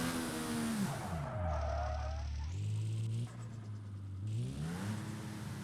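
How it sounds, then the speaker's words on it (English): A Mercedes AMG One in BeamNG Drive revving and accelerating in race mode, the engine pitch sweeping down and back up with a whistling turbo and brief tire squeal, steady and fairly close, no talking. "You hear that turbo?"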